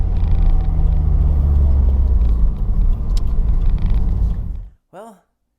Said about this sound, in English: so I'm on the brake, still engine braking.